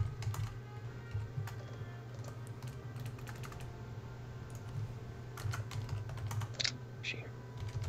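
Rapid clicking of computer keyboard keys during an online multiplayer strategy game session, quiet and steady, with faint voices talking in the background.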